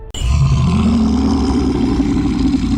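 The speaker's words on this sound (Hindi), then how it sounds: "ये एक भूखे बियर की आवाज थी जो आपके आसपास था" A hungry bear roars in a dense forest, a loud, sustained guttural rumble that starts abruptly and holds strong and close for nearly three seconds.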